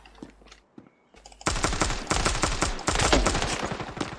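Rapid bursts of automatic gunfire in the mobile first-person shooter Standoff 2, loud and dense, sharp shots rattling continuously after a brief quieter lead-in.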